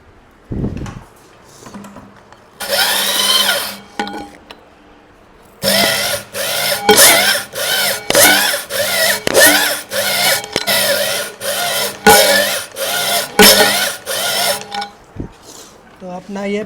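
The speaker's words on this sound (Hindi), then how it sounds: "होनिंग का ही काम बचा था, तो होनिंग भी अब हम लोग मार लिए अच्छा से।" Honing tool working inside the cylinder of an air brake compressor under repair, bursts of loud, close grinding whir that start and stop in rapid repeated strokes, with someone speaking at times between the runs.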